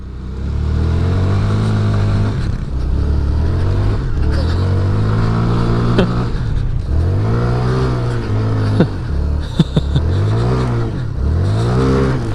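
A Honda Grom mini bike engine revs hard in repeated rising and falling surges while popping wheelies in snow, loud and close, with people's voices and shouts mixed in.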